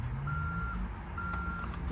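A 1/14 scale RC MAN truck with a Fury Bear sound system sounds its reversing alarm, two evenly spaced electronic beeps over a steady engine hum.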